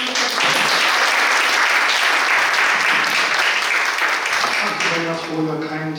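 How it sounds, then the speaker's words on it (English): An audience at an evening science seminar breaks into sustained applause, a dense steady wash of many hands clapping that holds for several seconds before tapering off, with a voice starting to speak near the end. "Please give a round of applause."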